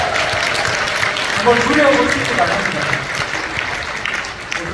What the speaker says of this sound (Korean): 한번 도전해 보실 분 박수 한번 주십시오.